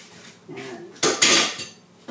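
Sour cream stirred into a pot of ham and potato soup, a spoon clattering and scraping against the pot in a few quick loud knocks after a soft scrape.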